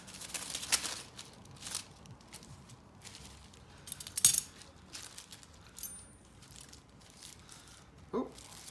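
Small metal lock wafers clink and rattle together in a handful of light, scattered chinks and jingles, close by and fairly quiet.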